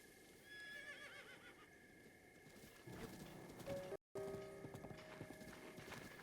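A horse neighs and whinnies in a Zelda game set around the Malanya Spring area and East Faron Grasslands, with clip-clop hooves and game background sounds and a brief dropout mid-clip.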